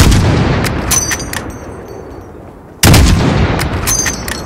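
A single loud sniper rifle shot in Call of Duty Modern Warfare, a sharp blast with a long rolling echo, and a second heavy report a few seconds later, with faint ambient tones between.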